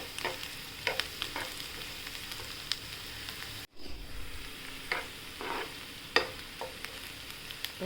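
Onions sauté in a pan for a lima bean curry, a close steady sizzle broken by repeated spatula stirs and scrapes, with one brief dropout midway.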